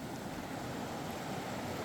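Floodwater on the swollen Surry River in New Hampshire rushes steadily past, a loud, unbroken broadband roar of fast current with no talk over it.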